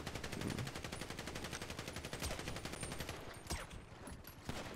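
Rapid automatic gunfire in GTA 5 roleplay rattles in a dense, continuous burst, loud and near, with a few heavier single shots toward the end.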